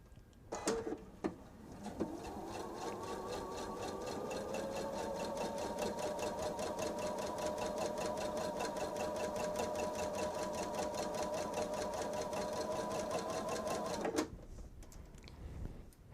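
A sewing machine stitches fabric in one long continuous run of rapid, even needle clatter lasting about twelve seconds, with a few clicks before it starts and as it stops.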